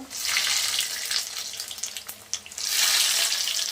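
Chicken tikia patties being lowered into hot oil: a loud, steady frying hiss that thins briefly in the middle and then swells back to a full sizzle.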